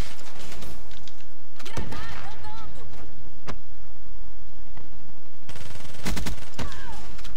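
Gunfire from Call of Duty Black Ops 3 multiplayer comes as loud, sharp bursts of shots with quieter stretches of game noise between them, and a voice talks at points.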